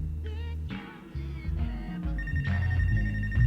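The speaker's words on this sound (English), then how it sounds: "Oh, phone is ringing." A phone rings in Life is Strange: True Colors, with repeated electronic ringing bursts and tonal beeps over a low, droning music bed, fairly loud and without speech.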